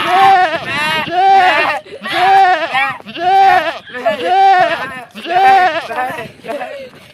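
A person imitates a goat, bleating loudly in five or six wavering, drawn-out cries separated by short pauses.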